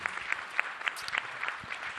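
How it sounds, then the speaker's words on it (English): An audience at a panel event on women shaping the global economy gives a short, moderately quiet round of applause, a brisk patter of claps heard at a slight distance. "give another round of applause"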